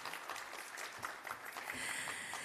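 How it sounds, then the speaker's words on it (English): Audience applause at a keynote session of a real estate summit in Asia, a dense steady patter of clapping that swells slightly toward the end, with a faint tone running underneath. "How about another round of applause for Golf?"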